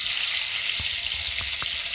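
Cut paneer fries in a pan with a steady, close, bright sizzle, broken by a few small pops and crackles, with no voices.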